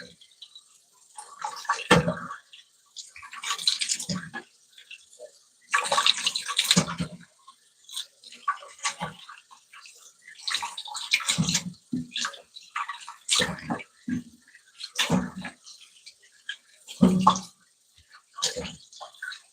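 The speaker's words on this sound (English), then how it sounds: "let me give a quick rinse to what I've already peeled" Running water splashes intermittently over peeled potatoes being rinsed in a kitchen sink, bursts of flow and clattering handling separated by quiet gaps.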